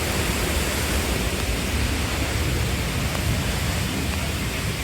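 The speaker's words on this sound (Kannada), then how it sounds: "ಮಳೆ ಹೆವಿ ಬರುವಂಥದ್ದು ಹೊರಟವೆ" Heavy monsoon rain pours near Jogi Gundi falls at Agumbe, a dense, steady roar of rainfall and rushing water filling the whole scene at constant loudness, with no voices.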